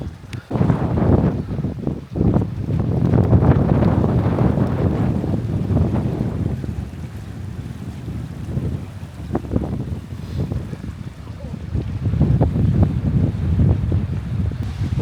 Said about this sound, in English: You can hear that wind there.